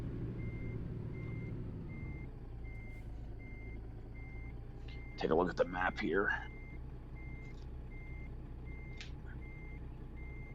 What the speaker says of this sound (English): Stop with the beeping.